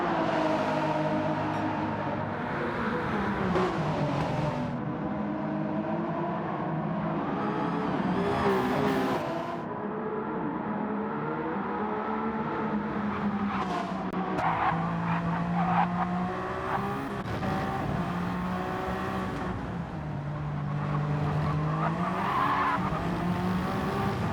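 Ferrari-liveried race cars racing through Parabolica and Ascari in a racing video game, loud engines droning continuously with tire scrub and squeal as they run close together, shifting pitch through the corners.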